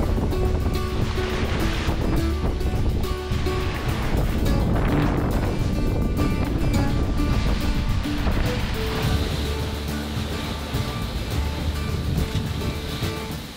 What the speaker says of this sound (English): waves hitting us